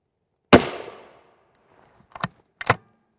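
A rifle fires an M993 armor-piercing round at a UHMWPE armor panel: one loud, sharp crack with a decaying echo, then two quicker, quieter impact bangs close together a moment later. Otherwise silent.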